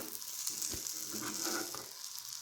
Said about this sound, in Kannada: ಚೆಂದಂಗಿ ಬದ್ನೆಕಾಯಿ ಮತ್ತು ಒಗ್ಗರಣೆ ಸೇರು ಹಂಗೆ ಮಿಕ್ಸ್ ಮಾಡ್ಬೇಕ್ರಿ